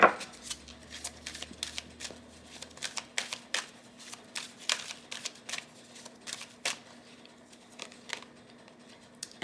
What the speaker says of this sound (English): I shuffle very vigorously in between readings